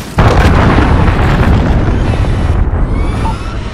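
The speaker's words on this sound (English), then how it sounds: "Enemy cruise missile incoming!" A cruise missile strike in a military shooter video game erupts as a loud, sustained explosion, a sudden blast that rumbles on with a dense roar for several seconds before easing slightly.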